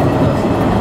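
JR Osaka Higashi Line local train at a station, a loud, steady rumbling roar of rail noise filling the short moment with no pauses.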